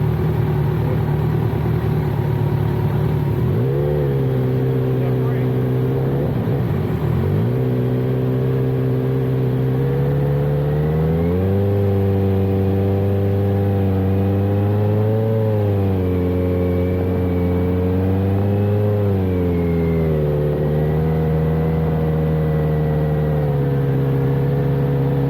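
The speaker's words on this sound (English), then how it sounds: "Don't rev it so high." Motorcycle engine on a riding course, revving up and down repeatedly in steady swells over a constant idle-like drone, close and loud without pause.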